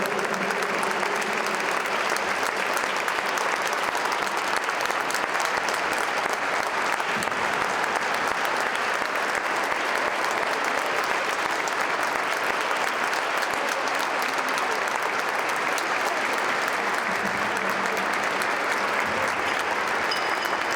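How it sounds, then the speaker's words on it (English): A standing audience at a 2022 congressional recognition ceremony gives sustained applause, a thick unbroken wash of many hands clapping at constant loudness for about twenty seconds. "And if you want, you can stand up and applaud,"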